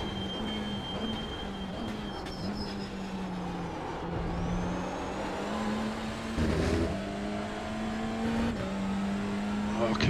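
A TCR race car in iRacing at Sebring at dusk, its engine holding a steady high drone with a sustained whine and a short rev spike near the end, heard under occasional talk.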